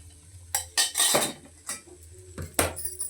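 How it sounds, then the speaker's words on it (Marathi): Ghee is poured into a pan of besan mixture while making Mysore pak, with a few metallic clinks and scrapes of a spoon against the pan between quiet stretches. "आता हे संपूर्ण तूप आपण टाकून घेऊया."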